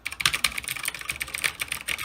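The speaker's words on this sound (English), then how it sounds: "The keyboard and the mouse, brand new, and I think they're Cherry MX Red because they're really clicky." Brand-new Cherry MX Red gaming keyboard typed on rapidly, a dense run of close, crisp key clicks with no talking.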